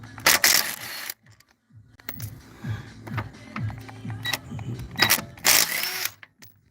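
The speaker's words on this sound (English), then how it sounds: "Your rattle gun, 17mm." A rattle gun impact wrench works 17mm nuts while installing BC coilovers, giving loud close bursts of buzzing hammering at the start and end, with quieter clicking and handling noises between.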